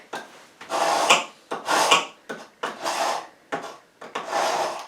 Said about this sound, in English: I have got this knife sharpener here